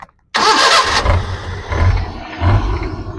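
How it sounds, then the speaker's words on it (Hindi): A car engine cranks and starts, then idles with a rough, uneven mechanical knocking, reportedly from a faulty cam in the head, heard close and fairly loud. "ये मुझे तो केम की आवाज़ लग रही है, हेड वाली केम की।"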